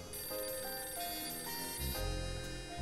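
A telephone rings in the video game Last Window: The Secret of Cape West, a steady electronic trill over layered synth music, moderately loud and continuous.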